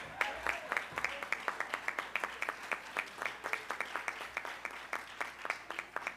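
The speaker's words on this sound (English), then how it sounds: "You have to continue the applause a little longer." An audience at an education conference keeps applauding, with the clapping thinning into a loose, rhythmic pattern of distinct hand claps at a moderate distance.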